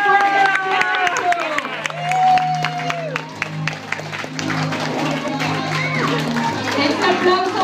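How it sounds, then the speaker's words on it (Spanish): Party guests applauding and cheering in a hall for baby Damien's first birthday, a crowd's clapping and chatter rising and falling under an emcee's loud voice and background music. "A ver que se escuche fuerte el aplauso."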